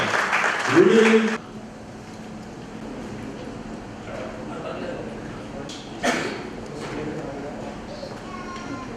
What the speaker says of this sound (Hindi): तो जोरदार तालियों से आप स्वागत करें त्रिलोक जी शर्मा।